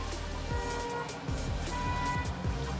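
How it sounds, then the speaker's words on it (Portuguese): Steady background traffic from cars moving back and forth along a city avenue, a continuous low rumble with passing engine swells and faint tonal hum, no voices over it. "O barulho de fundo aí, gente, da avenida aí, dos carros pra lá e pra cá"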